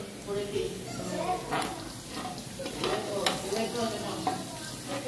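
Food fries in a pan while being stirred, with steady sizzling and scraping strokes at close range, under speech that runs through the whole stretch.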